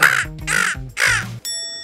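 A voice mimics a crow's caw three times in quick succession, harsh and loud, with short pauses between each call.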